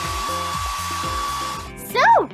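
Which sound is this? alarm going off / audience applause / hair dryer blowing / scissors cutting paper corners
hair dryer blowing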